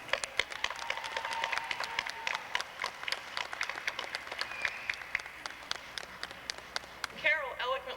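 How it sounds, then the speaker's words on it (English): A crowd at an outdoor women's rally in New Hampshire claps in scattered, uneven bursts. Individual hand claps stand out against a light background, and a voice cuts in near the end. "I'd like you to applaud Carol Bousquet for both her vision and her work on this project."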